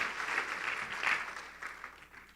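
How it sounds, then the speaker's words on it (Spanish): Church congregation clapping in praise during a Spanish-language sermon, a steady wash of many hands applauding throughout, moderately distant and fairly quiet with no one speaking over it. "denle una ofrenda de palmas al Señor, hermano"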